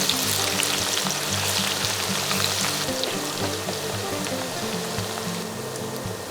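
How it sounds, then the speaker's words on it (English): Chopped onions and whole spices frying in a pan, a steady close sizzle and crackle that holds evenly throughout with no talking. "Fry until soft."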